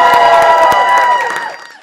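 A comedy club crowd at a roast battle cheers and claps for a contestant being introduced, a loud lively burst of whoops and clapping that tapers off toward the end.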